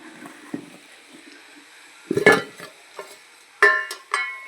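Crushed garlic sautéing in a pan, heard as a faint sizzle broken by a few sharp clinks and scrapes of a spoon stirring against the pan, close by, with quiet gaps between the strokes and no talking.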